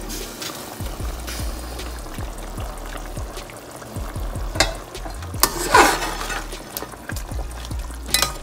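Mutton karahi simmers and sizzles in a pan over a medium flame, with a steady frying hiss and repeated stirring clinks and scrapes.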